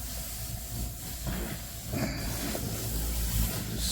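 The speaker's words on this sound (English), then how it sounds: "I'm just gonna give this a light scuff." Light hand scuffing of a car's metallic paint with 2500-grit sandpaper makes a soft, close, irregular hissing rasp in short strokes, with no talking.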